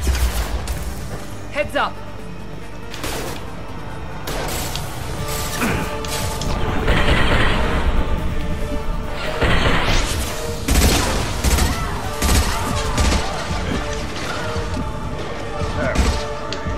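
Dense gunfire in a Mass Effect 2 firefight, continuous bursts and impacts with crashes and booms filling the whole stretch, loud and close, with a voice speaking over the combat.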